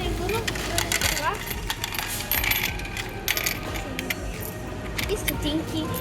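Coins clattering and jingling as they are dropped and poured, many overlapping metallic clinks throughout, close by and fairly loud, with people talking over them.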